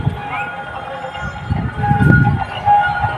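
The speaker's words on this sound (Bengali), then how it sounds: "এই যে সেই ড্রাগন ট্রেন বন্ধুরা সুপার ড্রাগন ট্রেন" A children's dragon train ride at the Karimpur Expo fair, heard nearby as a steady rumbling run with a tonal horn or whistle-like note and rising rolling noise over fairground background, loud and continuous.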